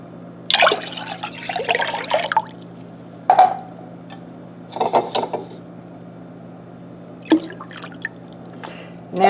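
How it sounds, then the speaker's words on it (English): Cold water is poured into a pan of iced tea punch in several separate bursts of splashing and trickling, each lasting a second or two, with quiet pauses between them. "Now we'll just add in our cold water."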